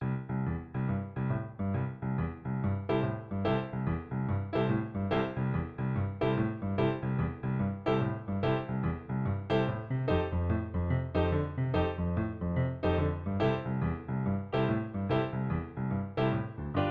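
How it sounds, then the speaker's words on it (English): Piano plays a boogie woogie 12-bar blues progression, a steady rhythmic left-hand pattern repeating in bright, even chords, continuous and close without any talking. "that's how you get that boogie woogie 12 bar blues progression"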